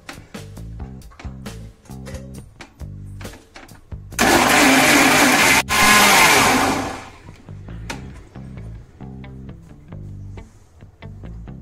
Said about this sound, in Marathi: थोडं थोडं पाणी घालून आपण वाटून घ्यायचं आहे